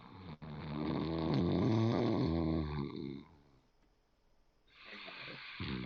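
A voice imitates loud, drawn-out snoring coming from inside a town hall during a tabletop fantasy game, one long rumbling snore, then a pause and the start of another.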